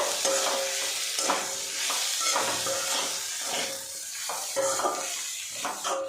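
Ground coriander, cumin and garam masala frying and being stirred in a pan for a beans curry, a steady close sizzle with repeated scraping stir strokes throughout, no talking.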